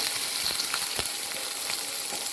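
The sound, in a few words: raw mango added to hot oil with mustard seeds, sizzling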